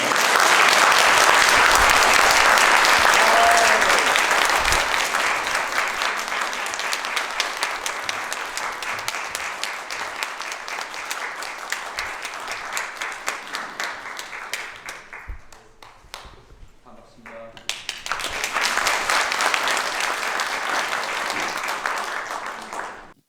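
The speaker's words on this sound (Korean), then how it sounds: "큰 박수로 환영해 주시면 감사하겠습니다" A lecture-hall audience gives long, loud applause to welcome a speaker to the podium, dense clapping that fades, nearly stops, then swells again before ending.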